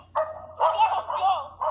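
A dog gives a short burst of loud, close barks and yelps in quick succession, with a low steady hum in the background.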